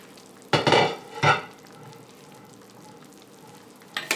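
Mixed greens cooked with cold smoked salt pork get stirred in a pot, two quick, soft scraping swishes close by followed by quiet simmering, with a faint third stir at the end.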